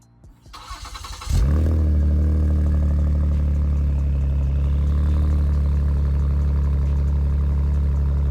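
A Ford Taurus SHO's twin-turbo V6 with upgraded mufflers turns over after a brief crank, catches with a loud surge and drops into a steady, deep, even idle heard up close with no talking.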